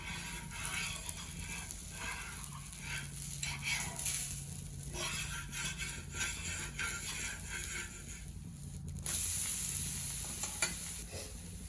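A ragi dosa sizzles and crackles on a hot pan in a continuous frying hiss, with scraping and stirring clatter and a brief louder burst of sizzle near the end.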